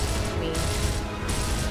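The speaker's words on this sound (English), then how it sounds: "Oh good, I can shoot through the fence." Dense, continuous gunfire from the Gears of War shooter game, a steady sustained barrage that fills the whole stretch without pause and with no talk over it.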